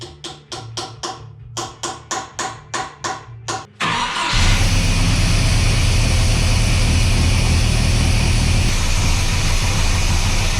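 A GM engine fitted with a throttle stop screw cranks in a rapid series of about ten rhythmic bursts, then catches and settles into a loud, steady idle with the throttle blades set slightly more open.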